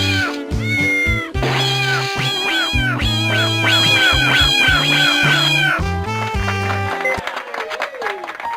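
A cat in The Incredible Machine meows repeatedly in loud, drawn-out, pitch-bending calls over a bouncy musical backing, with no voices.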